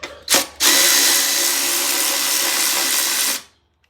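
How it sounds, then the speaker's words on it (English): A power tool whirs steadily for about three seconds loosening a 10mm airbox bolt on a 1983 Honda XR500 motorcycle, preceded by a short clack and ending abruptly in silence. "you also have to loosen the airbox. Curbside, 1 10mm bolt."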